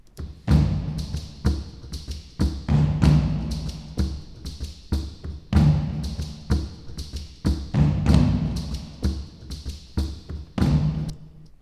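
A steady Irish bodhran rhythm layered with tom hits and a shaker, booming low thumps under a continuous shuffling rattle, played without voices.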